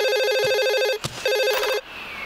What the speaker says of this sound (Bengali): ফোন আইছে।